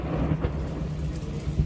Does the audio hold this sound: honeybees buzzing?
no